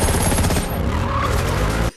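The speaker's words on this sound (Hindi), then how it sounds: "बट इतने में कुछ गुंडे बॉन्ड के ऊपर सीधा फायरिंग शुरू करते हैं।" Loud, dense gunfire bursts through a James Bond movie action scene, rapid overlapping shots with engine and skidding noise beneath, cutting off abruptly at the end.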